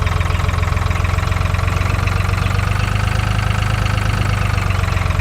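A steady, low tractor engine idle in Farming Simulator 2013, a continuous rumbling drone with a faint high whine running throughout, no voices.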